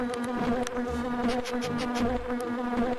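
Swarming insects in The Grinch video game, a loud steady buzzing drone with a tonal hum and pulsing wingbeat texture, close and continuous with no voices.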